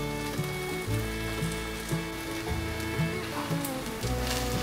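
Food fries slowly in a pan on low heat, giving a steady close hiss and crackle, heard alone without speech.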